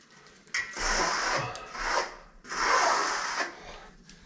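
A pool trowel sweeps over fresh plaster on a wall in three close, rasping strokes, each lasting about a second, with short pauses between them and no talking.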